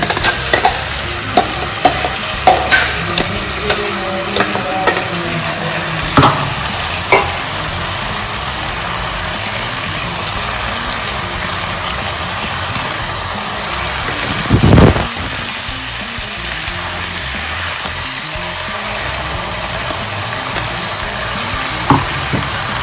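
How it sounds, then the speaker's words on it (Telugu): Chicken mixture being stirred in a pot for chicken rasam, repeated clacks and scrapes of a spoon against the vessel over a steady cooking hiss, close and without talk, with one louder knock midway. "ఒకసారి చికెన్ మిక్స్ చేసుకొని ఈ మిశ్రమాన్ని దీనిలో వేయాలి."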